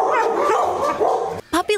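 Dogs bark and yip in short, close bursts at an animal shelter, a quick run of barks near the end with a reporter talking over them.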